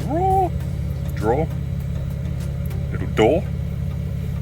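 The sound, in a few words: Nissan 370Z engine idling while warming up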